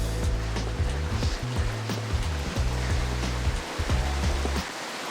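Hot spring water flows steadily through an onsen village street in the mountains, a continuous close rushing wash with a low rumbling hum underneath and no talking.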